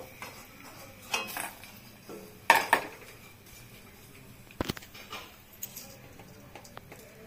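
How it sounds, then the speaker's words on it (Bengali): Homemade fried lentil dumplings (bori) are lifted from a pan of oil, with scattered light metallic clinks and scrapes of a utensil against the pan separated by quiet pauses. "বড়িগুলো ভাজা হয়ে গেছে, এখন আমি তুলে নেব"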